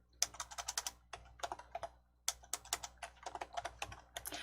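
Close fingers type a file name on a computer keyboard in two quick bursts of crisp keystrokes, with a short pause between them.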